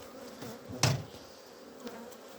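Honey bees from a freshly split colony fly around an apiary hive; one bee zips close past in a short, loud buzz over a faint background hum.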